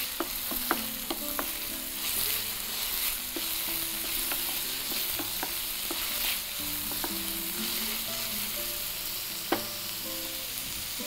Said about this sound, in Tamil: இப்போ நம்ம வெங்காயம் கொஞ்சம் வதங்கினே தக்காளி போட்டிருக்கோம்